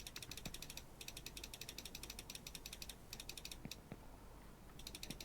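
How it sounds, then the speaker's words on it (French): Computer keyboard and mouse clicks come in quick, rapid bursts of typing, close and crisp, separated by short pauses while players run a fast food simulator game. "On entend bien le bruit de ton clavier et de ta souris"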